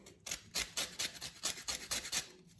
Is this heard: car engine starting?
no